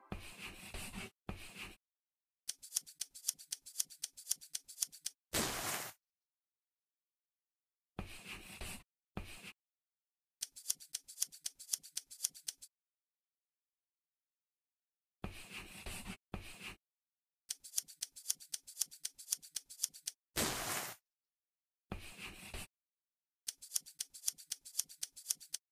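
Scissors snip through fabric in an Android sewing dress-up game, heard as quick rhythmic runs of crisp cuts broken up by short silences, with no talking.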